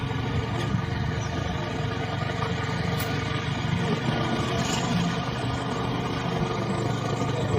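A vehicle engine labours steadily up a steep hill road toward a hilltop temple, a continuous mid-low drone that holds at a fairly even loudness throughout, with no voices over it.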